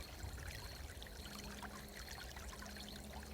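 Slow, gentle water trickling and dribbling from one level down to another, a soft, steady, continuous flow with no splashing, faint and alone.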